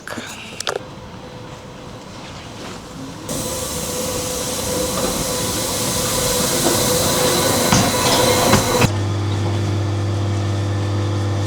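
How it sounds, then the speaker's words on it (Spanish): A steady train rumble and hiss fills the clip, loud and continuous, with a low engine drone settling in toward the end, from a mountain railway train climbing to the Jungfraujoch in Switzerland. "vamos a poder tomar ahora sí uno de los trenes que desafía la ingeniería"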